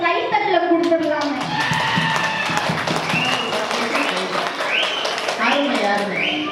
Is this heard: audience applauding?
yes